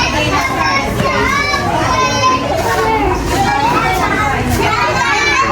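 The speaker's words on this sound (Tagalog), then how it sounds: "medyo maingay at mga bata. Excited sila." A crowd of young children chatters and shouts at a fifth birthday party, loud and constant, their overlapping excited voices filling the room.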